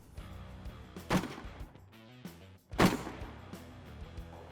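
Rifle gunfire on an army shooting range, two sharp shots about two seconds apart, heard at moderate distance over a quiet outdoor background.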